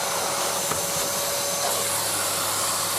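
A Numatic Basil NB200 vacuum cleaner runs steadily in a bedroom, a close, continuous whooshing motor drone with a faint whine that stays even throughout, with no talking.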